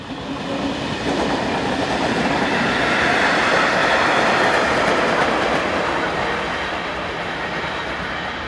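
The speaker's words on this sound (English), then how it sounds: "162011 passes in the opposite direction." A Czech Railways locomotive, number 162011 in a CD Museum advertising livery, passes on the line in the opposite direction, a loud, steady rumble of wheels and carriages that holds for the whole passage.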